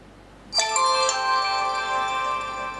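An HTC One phone plays its startup chime while booting after an OTA update, a bright ringing tone that starts sharply and sustains with a few melodic accents before slowly fading, alone and close.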